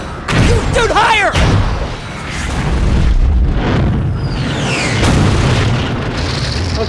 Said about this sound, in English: Today we're trying out the new shock blaster from Ratchet and Clank